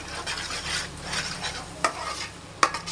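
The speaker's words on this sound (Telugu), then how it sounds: "ఇలా కలుపుతూనే ఉండండి లేకుంటే కింద అడుగు అంటుంది" Fish curry (pulusu) is stirred in a pan as it simmers and fries, giving a steady sizzle with scraping strokes and two sharp utensil clinks near the end, all close by with no talk.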